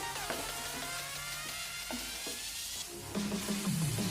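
Chicken with taro and potatoes frying in a pan, stirred after the lid comes off: steady sizzling with clanks and scrapes of stirring, louder toward the end, close by and without talk.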